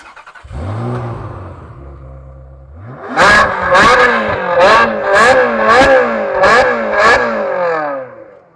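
A short engine blip at first, then a loud, close Ferrari 360 non-turbo V8 revs hard repeatedly, six or seven sharp rises and falls in quick succession with a rasping howl, reaching about 122 decibels.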